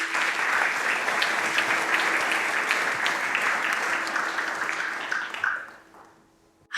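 An audience claps warmly to welcome meditation teacher Tracy Cochran, with steady, dense applause filling the room that fades out near the end.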